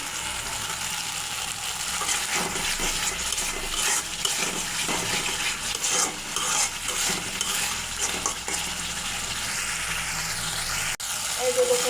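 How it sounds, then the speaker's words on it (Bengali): Spice paste for a rohu fish kalia curry stirred in a hot pan, with a soft sizzle under steady scraping and clinks of the spoon against the metal, while a voice speaks in places. "মশলাটা কত সুন্দর কষানো হয়ে গেছে"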